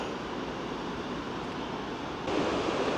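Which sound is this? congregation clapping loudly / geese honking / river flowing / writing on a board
river flowing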